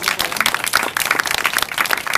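Audience applause at a session in Ahmedabad, a dense, close patter of many hands clapping at once, steady and fairly loud for about two seconds.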